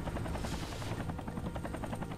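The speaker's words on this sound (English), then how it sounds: "Helicopters." Helicopters in the MechWarrior 3 game throb with steady rotor chop over a dense, loud mechanical rumble, the blade pulses clearly repeating throughout.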